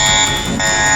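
A klaxon-style alarm blares loud and steady for the full second, a harsh tonal buzz with strong stacked harmonics and no talking over it.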